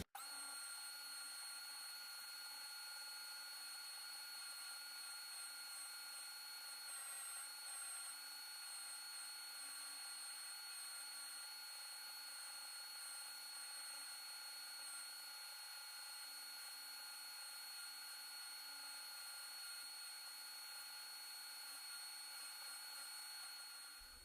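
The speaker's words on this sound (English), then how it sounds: "here we have our final sand of 500 grit on the spindle sander" A spindle sander with 500-grit paper finishing a yew wood slingshot gives off a steady, faint high-pitched whine that runs unbroken throughout with no talking.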